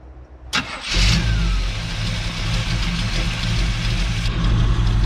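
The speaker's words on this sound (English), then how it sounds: "I'm going to crank the engine up" A car engine fitted with a mechanical fuel pump cranks briefly and catches, then settles into a loud, steady close-up idle that holds to the end.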